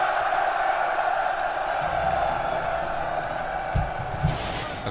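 Soldiers' massed cheering in Rome Total War forms a steady, distant roar of many voices. A couple of brief louder shouts or thumps break in near the end.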